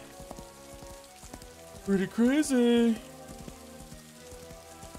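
Rain in the Daggerfall video game patters steadily as a soft, continuous hiss, while someone talks briefly over it.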